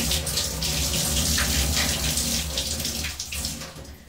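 Water pours steadily from the collection container of an LG clothes dryer into a sink, a loud, continuous splashing gush that tapers off slightly near the end, with no voices.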